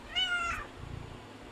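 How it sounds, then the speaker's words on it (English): A cat gives a single short, close meow that rises and falls, followed by a soft low rustle and quiet background. "Come on, cat, watch out."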